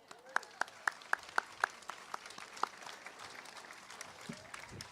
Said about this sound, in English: we can applaud for that